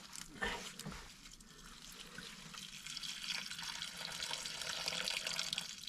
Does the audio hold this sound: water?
yes